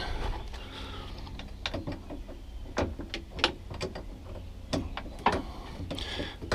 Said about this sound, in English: then we'll move this wrench to the other side. And then I can break that one loose